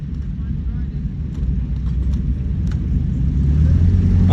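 An M4A3 Sherman tank with a 105mm howitzer drives out at a military weekend tank display, its engine a loud, steady low rumble that slowly builds as it nears, with crowd noise in the background.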